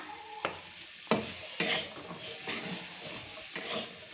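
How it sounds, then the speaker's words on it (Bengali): Chickpeas heat in a pan while a utensil stirs and scrapes against the metal, several sharp clinks over a soft sizzle, close and without talk. "এক গাদা ছোলা গরম করতেছে"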